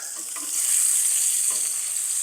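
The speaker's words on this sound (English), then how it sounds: "Let me grab my wooden spoon I brought." Zucchini and sausage sizzle in a single pan, a steady loud frying hiss with a couple of soft scraping strokes as a wooden spoon stirs them.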